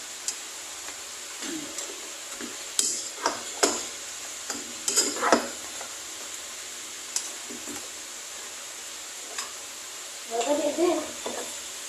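Soft sizzling of garlic frying in a pan, with intermittent scraping and clinking as it's stirred, and a louder burst of sizzle near the end.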